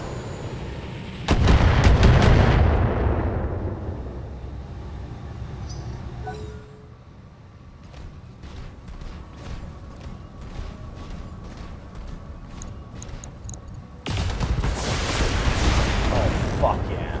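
Heavy mech weapons fire in a close-range video game slugfest: loud booming blasts with a dense rumble, a stretch of repeated sharp shots, then another heavy barrage, with talk throughout.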